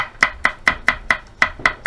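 A knife chops garlic rapidly on a cutting board, about eight crisp, evenly spaced strokes, close up and with no talking.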